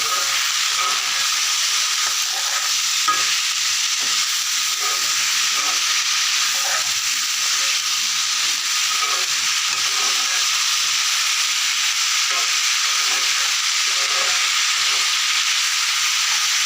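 Food in a pan under a loud, steady hiss of frying and steam lasting throughout, with faint irregular stirring scrapes beneath, close and continuous without talk.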